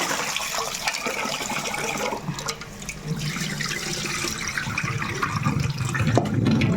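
Steady running water splashes and swishes over rice being rinsed in a sink, with a continuous rinsing, sloshing sound close by and no talking.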